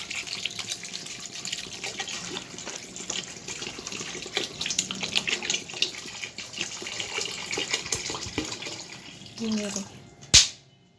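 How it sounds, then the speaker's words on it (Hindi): Water runs steadily from a tap into a cooking pot of potatoes for aloo methi, a continuous splashing gush that ends with a sharp clank near the close. "अब हम इसमें पानी को शामिल कर देंगे।"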